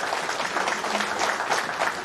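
Applause rings out at a police gathering for a team of sub-inspectors, a dense burst of clapping from a room full of people that runs steadily for about two seconds.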